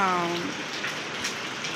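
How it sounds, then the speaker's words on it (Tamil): Heavy rain pours down steadily during a week-long downpour, a dense, even hiss throughout, with a brief voice at the very start. "இங்கே பயங்கர மழை தான்"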